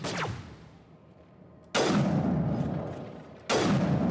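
A sniper rifle fires in Mass Effect Legendary Edition: three sharp, loud cracks about 1.7 seconds apart, each trailing into a long, decaying boom.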